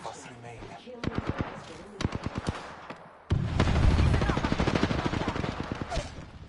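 Gunfire in the Opportunity Assassins video game: sharp single shots in a loose rhythm, then a sudden loud sustained burst of rapid automatic fire with a heavy low boom, close and dominant.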